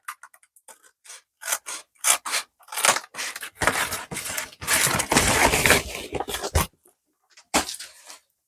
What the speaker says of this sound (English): we only need a very small piece of card. I'm just going to cut it out